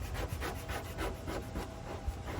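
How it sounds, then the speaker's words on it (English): A small squeegee is pushed over a vinyl racing stripe on a car hood, making a steady close rubbing and scraping with repeated rhythmic strokes. "Got my little bundle squeegee here, and now I'm just gonna push it to make sure it's as flat as possible as I install."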